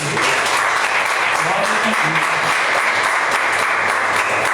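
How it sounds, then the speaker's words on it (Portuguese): Congregation clapping during an evening church service, loud, dense and sustained from start to finish, with a low voice or music faintly underneath. "E as palmas louvam o Senhor nessa noite."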